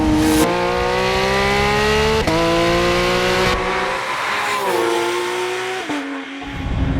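A lizard-green Porsche 911 GT3 RS with a Sharkworks exhaust accelerates hard toward 9,000 RPM, its loud, close engine note climbing through several gear changes with brief breaks between pulls.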